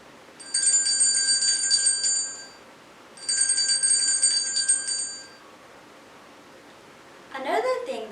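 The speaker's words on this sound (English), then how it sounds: "What is the sound of the bell?" A bell rings in two bright, shimmering bursts of about two seconds each with a short gap between, fairly close and clear; a voice begins speaking at the end.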